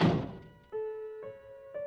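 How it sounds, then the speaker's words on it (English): A door slams shut as a sound effect in an audiobook of Anna Karenina, one loud close thunk with a short ringing decay, followed by soft tonal musical notes. "she slammed the door closed behind her"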